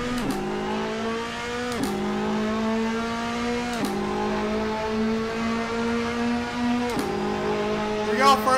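A race car in Assetto Corsa climbing through the gears at full throttle, each pull rising in pitch then dropping sharply at upshifts, repeating three times, loud and close under a talking driver.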